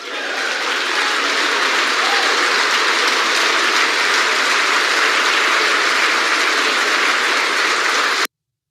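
Broad, dense applause from a large congressional audience fills the room continuously and loudly for about eight seconds before cutting off abruptly.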